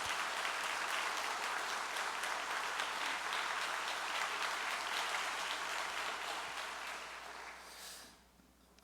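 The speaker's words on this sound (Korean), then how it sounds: "우리 송영천 회장님 또 사모님께 우리 큰 감사의 박수를 부탁드리겠습니다." Sustained applause from a church congregation thanking a visiting association chairman and his wife, a dense, even wash of clapping that continues for several seconds before dying away.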